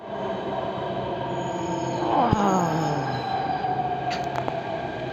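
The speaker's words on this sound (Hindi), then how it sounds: "फाइनली मेट्रो आ गई है" A Delhi metro train rolls into a station with rumbling wheels and a descending squeal of brakes, then a hissing release as it slows to a stop.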